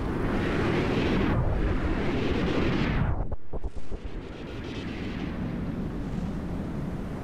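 Missiles pound a robot in a combat video game, a loud, continuous roar of overlapping explosions with a brief gap of crackling debris partway through before the blasts resume, with no voices.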